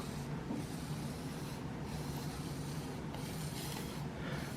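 Knife edge stroked on a fine 2500-grit sharpening stone to break off the burr, a steady low rasping rub with faint periodic strokes, close and continuous without talk.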